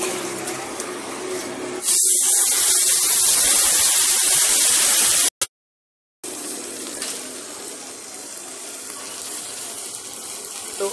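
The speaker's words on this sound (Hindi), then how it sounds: "प्रेशर इसमें से निकालते हैं" Pressure vents from a split AC unit's refrigerant pipe ahead of welding as a loud, steady hiss that starts abruptly, cuts off briefly to silence, then resumes with a softer rushing tone.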